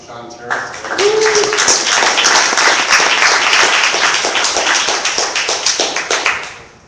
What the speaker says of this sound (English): How about a nice round of applause for Sean Terrence?